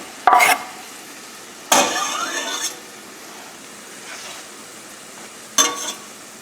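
Shallot and saffron hit a hot pan for risotto, giving short bursts of sizzling and stirring, three separate scrapes and hisses with quiet gaps between, close and fairly loud.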